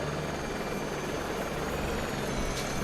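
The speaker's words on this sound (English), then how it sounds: "There's the old Shawbury helicopter." An old Shawbury helicopter drones steadily nearby, its rotor and engine making a constant loud whir with no pauses.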